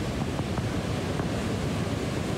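Strong wind and crashing waves along the Taitung seaside during Typhoon Kong-rey roar as one continuous, loud rush with no voices.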